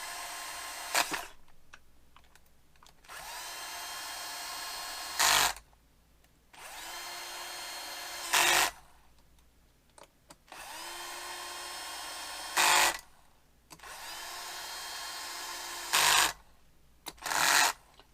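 A power tool drives bolts into the bottom-end crankcase of a Stihl MS200T chainsaw during a rebuild, giving four or five short, loud whirring bursts with quieter pauses between them and no talk.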